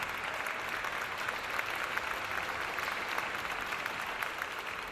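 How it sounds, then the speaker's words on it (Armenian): Audience applause at the Golden Apple of Discord 2011 awards ceremony: dense, even clapping from a sizable crowd, sustained at a steady level for the whole stretch with no voices over it. "Ձեր ծափ ողջույնները։"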